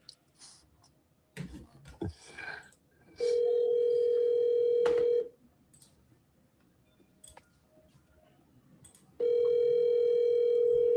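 Telephone dial tone from an outgoing phone call, a steady loud tone sounding twice for about two seconds each time, with clicks and faint rustling in the quiet gaps between.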